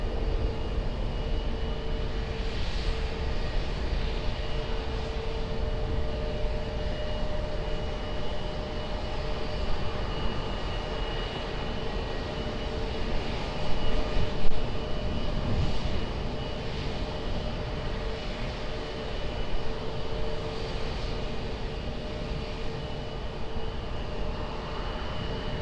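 An airliner takes off at Lisbon Airport with a sustained, broad engine roar that holds steady at a distance, swelling briefly midway before settling back.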